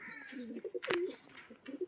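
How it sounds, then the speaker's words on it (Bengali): A male Andhra Kalanka pigeon coos softly and close by in short, throaty, repeated bursts, with light handling noise around it. "এটা নর পায়রা তাই তো? এটা নটটা থেকেই আওয়াজ হচ্ছে।"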